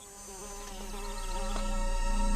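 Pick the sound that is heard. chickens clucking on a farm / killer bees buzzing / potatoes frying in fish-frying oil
killer bees buzzing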